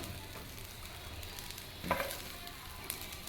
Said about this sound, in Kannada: ಆನಿಯನನ್ನು ಫುಲ್ಲು ಅದು ಹಸಿ ವಾಸನೆ ಹೋಗೋವರೆಗೆ ಚೆನ್ನಾಗಿ ಫ್ರೈ ಮಾಡ್ಕೋಬೇಕು